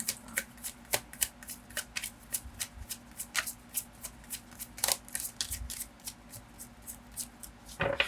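A deck of cards is shuffled close up, giving a steady run of crisp flicks and riffles for about eight seconds over a faint room hum. No one speaks.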